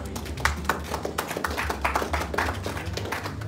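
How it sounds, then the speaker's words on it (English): An audience claps for an absent honoree at a music label launch event: dense, close-up patter of many hands, fairly loud and continuous for several seconds, with no talk over it. "So I think let's clap for her"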